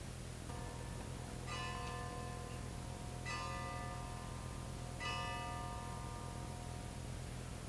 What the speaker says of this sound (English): just as the bell says, whatever time it is